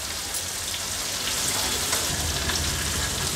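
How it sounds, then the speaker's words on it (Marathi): Black pomfret fish fries in oil on a medium flame with a steady, dense sizzle. The crackle is continuous and close, with no voices. "मीडियम फ्लेमवरच एक बाजू त्याला फ्राय होऊ देणार आहोत"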